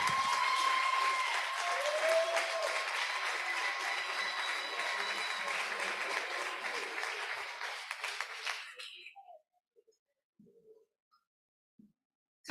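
Audience applause at a health sector governance event, a full sustained round of clapping that carries for several seconds, then thins and fades into near silence with a few scattered claps.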